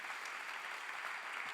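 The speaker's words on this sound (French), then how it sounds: "Je vous demande d'applaudir nos intervenants" A conference audience at a round table on child protection applauds the speakers, a dense, even patter of clapping from a hall heard at a moderate distance, continuous throughout.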